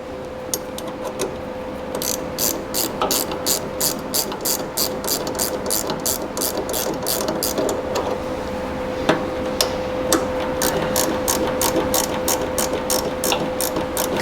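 A hand ratchet tightens a bolt on a motorcycle fuel tank in quick, bright clicking bursts. The bursts run in steady, repeated strokes with brief pauses between them, close and clear over a faint steady hum.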